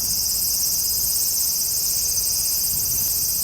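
A large brown cicada, the aburazemi, gives a continuous, dense, sizzling drone high in pitch, unbroken and evenly loud for the whole few seconds, heard alone.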